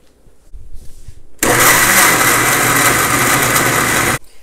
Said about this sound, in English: And we're gonna go ahead and blend that.